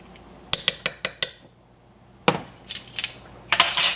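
Tomatillo salsa ingredients mixed in a bowl with a utensil, a quick run of five sharp clinks, a pause, then scraping, clattering strokes that grow busier toward the end.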